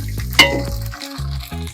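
Spices crackle and sizzle in hot oil for a tempering, a sharp burst of spattering near the start that settles into a steady fry, close and fairly loud.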